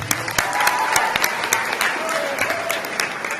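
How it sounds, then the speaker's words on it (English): A graduation audience for the class of 2026 at an Ember Charter Schools ceremony breaks into sustained applause, dense clapping with sharper individual claps popping out, and some crowd voices mixed in. "Give yourself a round of applause."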